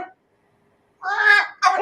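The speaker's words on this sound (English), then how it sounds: "Now this one is a parrot." A recorded parrot call plays back in two harsh, squawking bursts with a short gap between them, close and fairly loud after a moment of silence.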